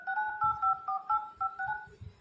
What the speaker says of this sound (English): now you can see dial pad tone is on in our Vivo phone